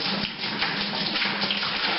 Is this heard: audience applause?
no